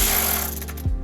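A ratchet fitted with a 10mm socket turns the taillight nut on an NB Mazda Miata, giving a brief mechanical clicking over steady background hiss, with a short thud near the end.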